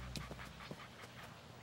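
A dog panting in quick, soft, rhythmic breaths, several short bursts in a row, close but fairly quiet over a low background hum.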